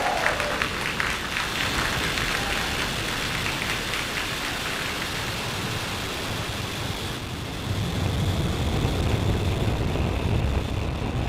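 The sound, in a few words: SpaceX Falcon 9 rocket liftoff roar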